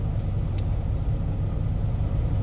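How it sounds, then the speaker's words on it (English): A heavy truck rolls along a mountain road, its engine a steady, continuous low rumble with no breaks and no talk. "driving a big truck"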